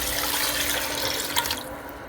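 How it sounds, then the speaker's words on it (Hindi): Water pours steadily into a pot holding 1 kg of raw beef, a close, continuous splashing rush that thins out toward the end, with no voices. "तो इतना पानी डालें"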